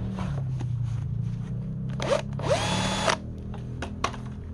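Cordless drill whirring close up in short bursts while unscrewing a brush cutter's flexible cable housing, with a rising whine as it spins up, followed by a few sharp clicks and taps.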